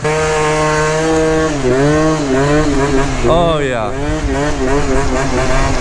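A two-stroke stunt scooter build with a Stage 6 spring setup and a bore that likes high revs, its engine revving loudly and rising and falling in pitch, with someone talking briefly over it.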